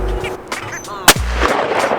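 A single loud, sharp shotgun blast from a Benelli Super Black Eagle 2 at a sporting clays range, cracking out near the middle of the clip amid low outdoor background noise.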